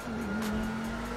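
A Mansory Lamborghini Urus accelerating away in GTA 5, a steady droning engine tone held throughout, close and even in loudness.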